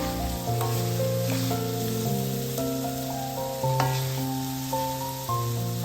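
Medan anchovies sizzle in a pan with kecombrang sambal, a steady frying hiss running for several seconds beneath prominent background music with sustained tones.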